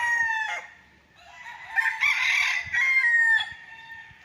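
A rooster in a farm chicken coop crows loudly and close, one long drawn-out call after a shorter opening note, with no voices.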